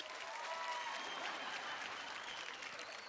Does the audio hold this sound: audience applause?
yes